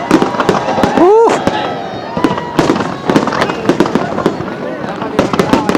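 A New Year 2018 fireworks display over Al Marjan Island in Ras Al Khaimah, with a loud run of booming bursts and crackles and one rising whistle, as a voice speaks and a crowd cheers.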